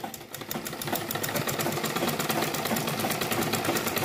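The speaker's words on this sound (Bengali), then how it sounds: "এখন আমরা এই কাপড়টা সেলাই করে দেখবো যে আমাদের কাপড়টা সামনের দিকে যায় কিনা" A Singer sewing machine stitching fabric runs steadily with a fast, even mechanical whir and rapid needle ticking, close and fairly loud throughout, with no talking.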